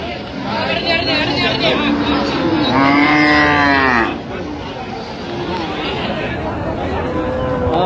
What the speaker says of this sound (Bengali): এখানে দেখছিলাম একেবারে সেরা কোয়ালিটির গাভী বাছুর